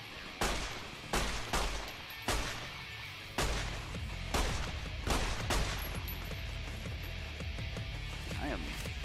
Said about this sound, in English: Alright, let's use our pistol.